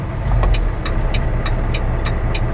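A truck pulls away from the Iowa 80 truck stop in light drizzle, its steady engine rumble loud and close throughout, with faint repeating high chirps over the drone.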